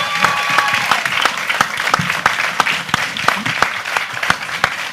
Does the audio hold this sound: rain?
no